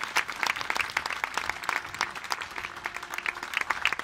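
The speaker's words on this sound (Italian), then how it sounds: "Grazie, un applauso." Applause from a crowd at an Alpini parade ceremony in Presezzo, loose scattered clapping with distinct individual claps, outdoors and steady throughout.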